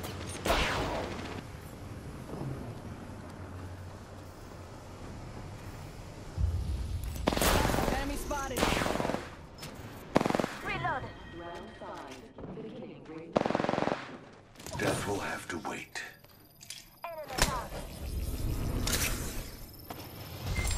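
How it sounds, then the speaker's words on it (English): Bursts of automatic gunfire crackle through an Apex Legends match, arriving in loud irregular volleys with pauses between, close and sharp, while game voice lines and talk come and go underneath. "I'm getting shot at"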